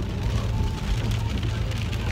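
Heavy rain pours down during a rainy evening of food delivery driving, a dense, constant hiss and patter on surfaces, close and fairly loud, with a low rumble beneath and no voices.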